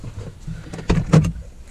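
A 2016 Jeep Wrangler door shuts in two close, solid thumps near the microphone, with a quieter rattle just before, and no talking.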